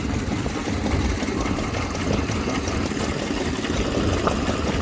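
A belt-driven vintage stationary engine at a vintage vehicle event in Scotland, running a water pump on a closed circuit. It gives a steady mid-low running drone with a fast mechanical beat, close and continuous, with no voices.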